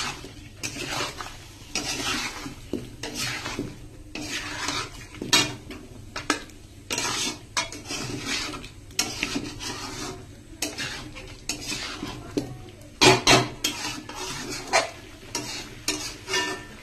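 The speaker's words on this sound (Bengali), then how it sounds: "তো ভালো করে নাড়াচাড়া করে নিচ্ছি" A utensil stirs food around a pan cooked in little oil, scraping and clattering in irregular bursts over a soft sizzle, close and with no talking.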